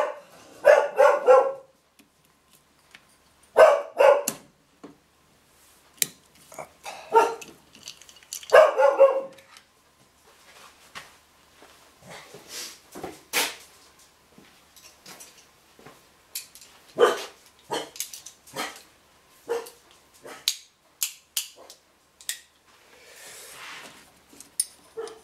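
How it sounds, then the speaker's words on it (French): A dog barks in a home workshop while a DS3 racing oil catch can is being fitted, giving repeated sharp barks in bursts, some grouped in quick pairs, with quieter yips between. "Excusez-moi pour le chien."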